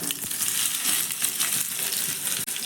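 Chopped onion with cumin seeds sizzles steadily in hot mustard oil, a continuous close, bright frying hiss with small crackles and no talk.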